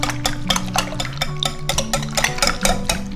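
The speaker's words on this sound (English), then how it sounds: "I like to just stir this to combine it just gently" Protein waffle batter made with homemade yogurt is stirred gently in a bowl, giving a steady rhythmic scraping and swishing that repeats quickly and stays close and clear, with no voices.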